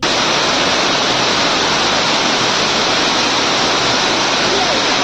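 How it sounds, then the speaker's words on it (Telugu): Rainwater pours through the roof vents of a railway station, a dense, loud, unbroken rush of falling water filling the whole scene. "అగో ఆ శీద్రాలకెళ్ళే ఇప్పుడు నీళ్లు కూడా పోతున్నట్టున్నాయి"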